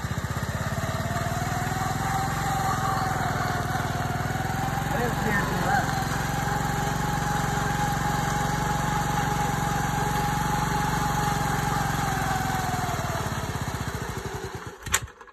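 A motorcycle engine runs steadily at a constant idle-like drone for about fourteen seconds before sputtering and cutting off near the end, with some talk faintly mixed in.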